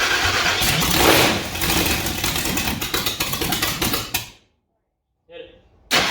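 A 1000 HP supercharged small-block Chevy in a front-engine dragster runs loud and raw, then cuts off abruptly into silence before a fainter restart near the end; voices are present.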